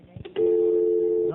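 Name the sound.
telephone ringing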